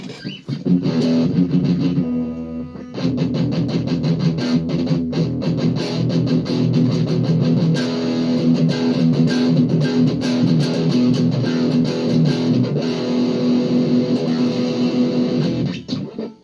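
Budget electric guitar played with gain all the way up and contour all the way down, heavy distortion, sustained chords and notes ringing continuously after a brief pause near the start.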